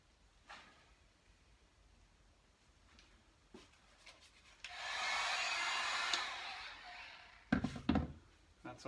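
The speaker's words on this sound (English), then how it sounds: "Let's get our heat gun ready to go." Electric heat gun being readied for drying screen-print ink, blowing a steady broadband whoosh for about two seconds mid-clip, between quiet handling sounds, with a few sharp knocks and thuds near the end.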